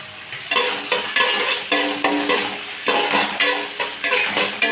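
Onions stirred and fried in a pan with poppy seeds, a steady sizzle broken by rhythmic scrapes of a spoon roughly every half second, close and fairly loud with no voices.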